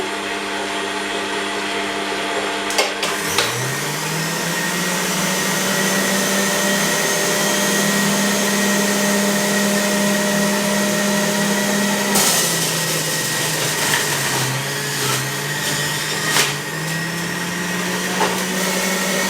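A juicer motor hums steadily while juicing cucumber, its whine dipping and rising as the load changes, with a few knocks and rattles along the way.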